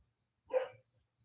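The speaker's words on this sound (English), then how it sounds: "stop barking" A dog named Sugar lets out a single short bark, close and distinct against a quiet room.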